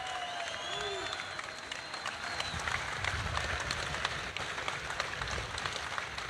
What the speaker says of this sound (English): Give him one more great, big, huge round of applause.